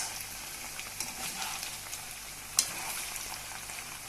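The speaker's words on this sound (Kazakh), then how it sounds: "осы пиязымызды қосамыз да деп араластырамыз" Onions frying in a hot pan, a soft continuous sizzle with light scraping and stirring, faint and steady, with one small clink.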